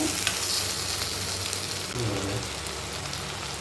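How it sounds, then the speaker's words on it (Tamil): Ginger, shallots, tomato and coconut fry in oil in a pan and are stirred, giving a steady close sizzle with soft scraping as the mixture is moved about; no one speaks. "இஞ்சி, அப்புறம் சின்ன வெங்காயம், தக்காளி, தேங்காய் இதெல்லாம் போட்டிருக்கோம். நல்லா மிக்ஸ் பண்ணிவிடுங்க."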